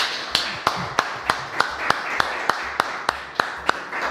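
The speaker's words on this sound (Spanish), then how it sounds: "Este aplauso es para Roberto Baradel." A sparse audience at a televised interview gives slow, evenly spaced claps, sharp single hits about every third of a second over a low background hum.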